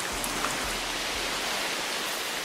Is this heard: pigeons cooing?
no